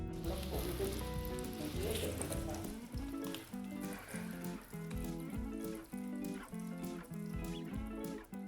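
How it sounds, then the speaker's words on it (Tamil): Food fries in hot oil with a continuous crackling sizzle, heard close and steady beneath tonal background music. "இது பொரிஞ்சுக்கிட்டே தான் இருக்கும். சவுண்டு நல்லா கேட்கும்."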